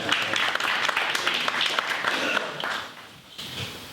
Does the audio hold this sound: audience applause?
yes